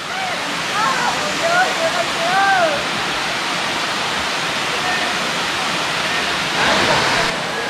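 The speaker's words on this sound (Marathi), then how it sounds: "सुंदर असा धबधबा आहे महादेव धबधबा" Mahadev waterfall in the Satpuda hills near Jalgaon Jamod, Buldhana, roars as a dense, continuous rush of falling water, with faint voices and chirping birds in the first seconds.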